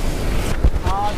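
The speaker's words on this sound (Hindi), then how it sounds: "यहाँ पे बहुत शोर है पानी का" Rushing water at Aharbal waterfall roars as a loud, dense broadband wash across the whole short moment, with a brief voice-like fragment near the end.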